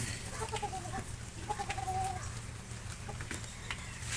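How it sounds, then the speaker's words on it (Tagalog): A rooster crows twice at a distance over a low, steady background hum, the calls rising and wavering briefly. "dito yan yung magandang tandang na yan"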